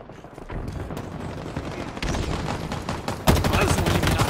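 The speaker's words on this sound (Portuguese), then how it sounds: "Tô tomando tiro!" Rapid bursts of gunfire from Halo Infinite multiplayer, with dense repeated shots that grow louder and harsher toward the end, and no talking.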